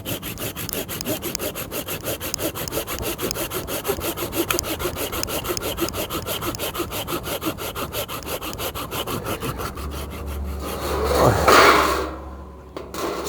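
A Bahco Laplander folding pruning saw cuts through wood indoors in fast, rhythmic push-pull strokes that rasp on both directions, close and steady, ending with a thud and a scraping rub.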